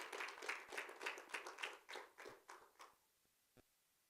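A church congregation claps at a worship service, a dense burst of handclaps that thins into scattered individual claps over about three seconds, then a single late clap. The sound is fairly quiet and has no voices over it.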